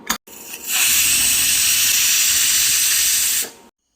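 A pressure cooker whistle gives a loud, steady rush of hissing steam for about three seconds, after a couple of short sputters, while cooking mutton curry on maximum heat.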